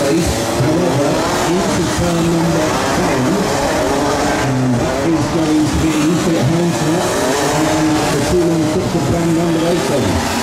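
Rear-wheel-drive race cars circling the Genk track during a BNL Winter Trophy race, engines droning and revving continuously and loudly with a dense overlapping roar, a commentator talking over the noise throughout.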